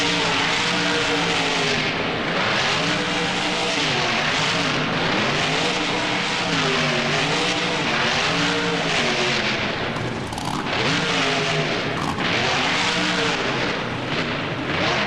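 An El Toro Loco monster truck engine in BeamNG at a freestyle run in NRG Stadium, roaring loudly and continuously with rising and falling revs as the throttle is worked.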